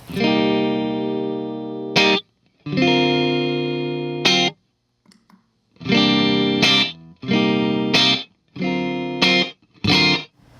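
A clean, undistorted electric guitar plays a series of chords through a Boss RV-5 digital reverb pedal set fully dry, each cut off abruptly into silence with no lingering tail or echo.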